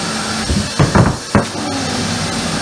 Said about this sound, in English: You're about to witness this implosion test live, so cover your ears because the shop vac gets a little loud.